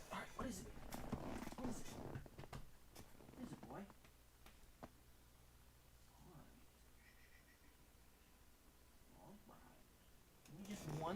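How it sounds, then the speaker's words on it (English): A cat purrs close by with a low, steady rumble that runs under quiet clicks and soft voice sounds, while a Sonic the Hedgehog game on PS3 plays faintly in the background. "My cat needs my attention."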